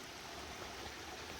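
Steady broadband rush of a mountain stream at a trail water crossing, close and continuous with no breaks or voices.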